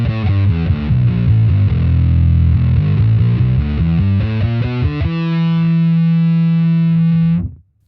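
Bass guitar played through a fuzz effect on a Neural DSP Quad Cortex, loud and thick with distortion, a run of rhythmic notes followed by one long sustained note that cuts off abruptly.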